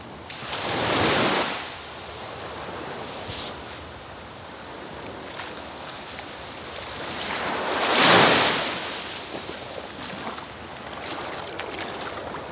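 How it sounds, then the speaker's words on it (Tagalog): Sea waves break on the shore in two distinct surges, one early and a louder one later, with a soft wash and light wind between them; no voices. "Mga ka-acid, ang ganda ng dagat."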